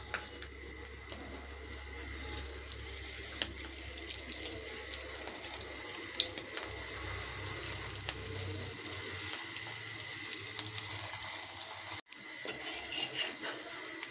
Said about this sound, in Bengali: তেলটা গরম হয়ে গেছে, এবার এই পরোটাগুলো ভেজে নেব।